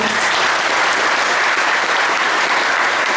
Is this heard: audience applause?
yes